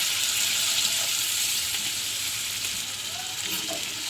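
Water poured onto a spice paste frying in oil for a Bengali fish kalia, giving a loud, continuous close sizzle and hiss that eases slightly toward the end, with no talking.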